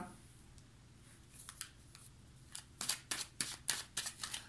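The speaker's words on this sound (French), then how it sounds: "On va recouvrir les cartes." Tarot cards are gathered and handled, quiet at first, then a quick series of sharp papery slaps and shuffling snaps toward the end, close and crisp.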